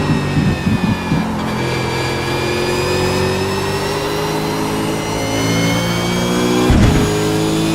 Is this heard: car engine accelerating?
yes